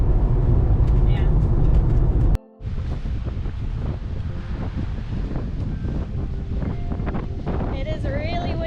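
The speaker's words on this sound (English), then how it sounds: "It is really windy." Loud, continuous wind buffeting a microphone on a beach on New Zealand's South Island west coast, with a brief dropout partway through, while people talk underneath.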